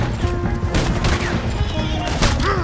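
Dense, overlapping gunfire in a Red Dead Redemption 2 shootout rattles continuously, with shouting voices mixed in and heard over the shots.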